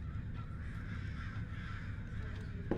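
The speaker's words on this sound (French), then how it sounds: "T'entends autant de corbeaux qui font ce bruit là, mec?" Crows caw a few times at a distance, faint against steady outdoor background noise, with one sharper sound near the end.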